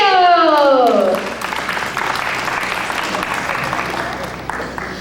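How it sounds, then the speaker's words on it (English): An audience at a theme-park studio backlot stunt show claps for the Superman stunt performer, a broad wash of applause that rises right after an announcer's amplified voice cuts off and carries on steadily to the end. "How about a big round of applause for our man of steel?"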